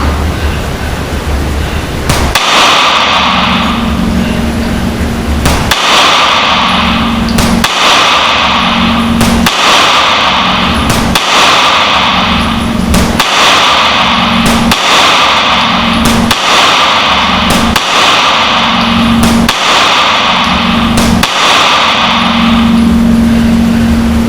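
Springfield Armory Hellcat pistol shots ring out at a range, about ten loud, evenly spaced reports roughly every two seconds, each crack followed by a brief echo over steady background noise.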